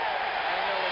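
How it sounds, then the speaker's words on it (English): Basketball arena crowd at the 1977 NBA Finals, 76ers at Trail Blazers, reacting to a 24-second violation: a steady, broad wash of crowd roar filling the whole second with no clear breaks. "And listen now to the crowd."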